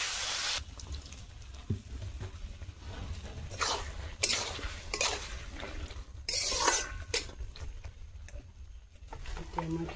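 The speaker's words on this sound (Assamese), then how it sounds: "এতিয়া মই অলপ দিম পানী" Water is poured into a pot of simmering potatoes, with a few splashing bursts of pouring over a low kitchen background and a voice speaking nearby.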